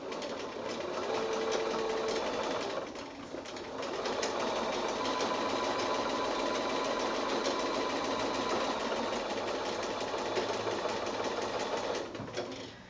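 A sewing machine fitted with a walking foot stitches straight quilting lines on a small garden path quilt, running steadily and close for nearly the whole stretch with a brief slowdown midway and another near the end.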